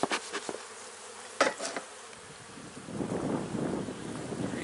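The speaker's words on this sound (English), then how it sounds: "let's get these bees down a little bit" Honeybees buzz during a spring hive inspection, a steady insect hum that swells louder in the second half, broken early by a few sharp handling knocks and bumps near the microphone.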